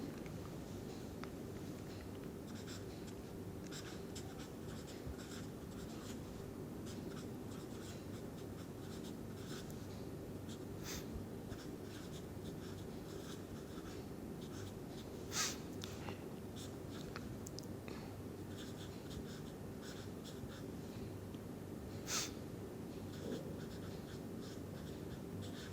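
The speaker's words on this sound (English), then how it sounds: "I will write down all the equations for you" Pen writing chemistry equations by hand on paper, a quiet, steady scratching with occasional sharper taps, close and alone throughout.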